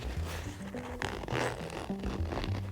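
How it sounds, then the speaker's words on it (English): A zipper on a Herschel Pop Quiz backpack is drawn open in several quick, close scraping pulls with short pauses between them. "it's because of this zipper right here"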